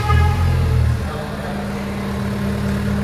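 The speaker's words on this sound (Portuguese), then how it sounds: "Ele vai ligar remotamente, ó." A 2023 Fiat Pulse Abarth's engine starts by remote, with a louder surge in the first second settling into a steady, low idle rumble that continues alone to the end.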